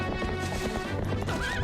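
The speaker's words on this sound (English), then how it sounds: "I'm on a horse. And I'm going fast." A horse neighs and its hooves clip-clop at a fast gallop in Twilight Princess HD, the whinny rising near the end over steady game music.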